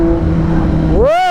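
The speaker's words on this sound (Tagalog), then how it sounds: "nag-backfire pa" Kawasaki Z900 SE motorcycle engine rumbling loudly up close in traffic, then rising in a sharp swelling rev with a pop near the end; a voice speaks briefly over it.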